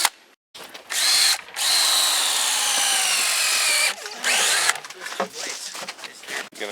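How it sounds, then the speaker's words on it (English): A power drill bores a tap hole into a maple tree for sap, with two sustained whirring bursts and a brief pause between them, close and loud, followed by quieter handling noise and talking. "when you drill, you want to have about a 10-degree angle on your hole so that the sap drains out and doesn't pool in there"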